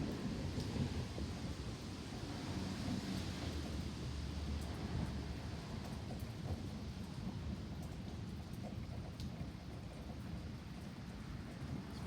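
Steady heavy rain pours throughout a severe thunderstorm, with a low rumble of thunder rolling underneath and occasional sharper drips and patters close by.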